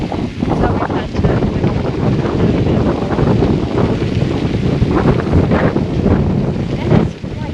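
Strong wind buffets the microphone during a motorbike ride across sandy, hilly ground near Uluru in the Northern Territory, a loud, steady roaring rush with gusty surges throughout.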